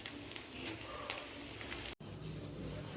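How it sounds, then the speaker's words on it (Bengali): Vegetable chops coated in biscuit crumbs fry gently in hot oil over low heat, giving a steady, close, crackling sizzle throughout, broken by one brief dropout near the two-second mark. "এখন আমি হালকা হিটে এটা ভেজে নেব।"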